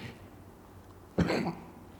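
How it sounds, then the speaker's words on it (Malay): A single short, muffled cough bursts out about midway after near silence, sounding held back and stifled rather than released freely. "kita nak batuk tapi kita tahan batuk"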